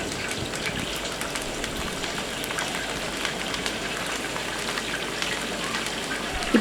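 About ten to fifteen slit green chillies and spices fry in oil in a large pot of biryani being cooked for 150 children, giving a steady, dense sizzle like heavy rain throughout.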